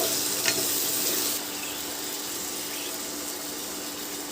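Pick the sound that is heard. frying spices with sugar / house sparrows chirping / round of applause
frying spices with sugar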